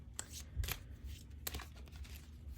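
Tarot card decks being handled with a few soft, close shuffling and sliding rustles in separate bursts, quiet and intermittent over low background noise.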